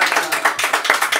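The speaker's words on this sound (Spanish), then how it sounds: "Un aplauso para Mateo." Brief burst of clapping from a small audience welcoming Mateo at a live show, uneven and fairly close, with some voice mixed in.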